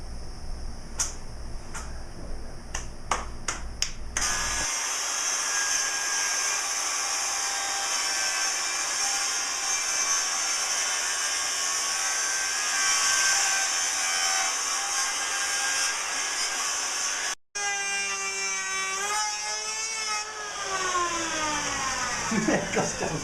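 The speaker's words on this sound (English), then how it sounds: "so we had to work with our circular saw on that" A circular saw cuts through 2x6 lumber for a boat spar, with a loud, sustained high-pitched whine running through the blade's cut for over ten seconds, preceded by clicks and followed by the motor spinning down with a falling pitch.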